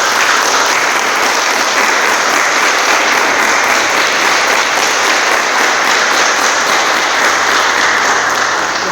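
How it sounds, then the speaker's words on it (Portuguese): A church congregation applauds a newly presented parish board with strong, sustained clapping, loud and dense throughout with no break. "recebam a eles como diretoria paroquial com uma forte salva de palmas"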